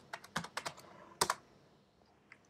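Quick bursts of keystrokes on a computer keyboard as a LaTeX equation is entered, a clustered run of clicky taps followed by a pause and a few scattered presses, close and clear with no talking.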